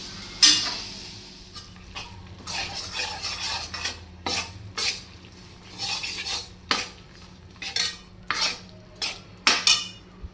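A spatula stirs chopped plain jaggery as it melts in a pan over a low gas flame for sesame laddoos. Irregular metallic scrapes and clinks sound close and moderately loud, with no talk.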